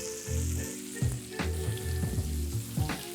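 Steak fries in brown butter in a hot pan, a close, steady sizzle broken by repeated bursts and low thumping surges as the fat is basted over.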